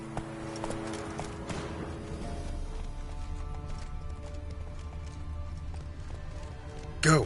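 Roach, a horse in The Witcher 3, gallops in a quick, steady clip-clop of hooves, close and clear, with a brief loud burst near the end.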